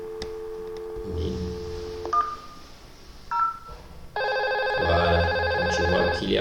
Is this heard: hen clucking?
no